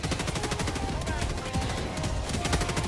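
Automatic sentry guns in Helldivers 2 fire rapid, dense bursts of gunfire, loud and close, in a continuous rattling volley.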